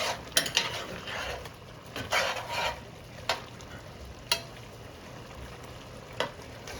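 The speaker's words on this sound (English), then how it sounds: "Stir the pot." A spoon stirs a pot of jambalaya with meat just covered in liquid, giving a handful of sharp scraping strokes against the pot over a faint steady simmer, close and fairly quiet.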